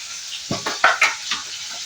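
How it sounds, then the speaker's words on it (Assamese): Fish pieces rubbed with salt and turmeric hit hot oil in a pan, giving a few short bursts of spitting sizzle over a low steady crackle, close and fairly loud, with no talking. "মাছখিনি মই ভাজি লৈছো"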